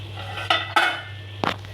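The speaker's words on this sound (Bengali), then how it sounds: "এখন মাছটাকে তুলে নেব আমরা।" Cooked hilsa fish is lifted out of a pan, with three clear metal clinks and scrapes of a utensil against the pan over a low steady hum.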